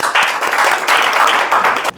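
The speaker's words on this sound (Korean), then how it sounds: "박수로 시작하겠습니다" An audience claps at the start of an insurance sales lecture, with short bursts of brisk hand clapping that swell and ebb before stopping abruptly near the end.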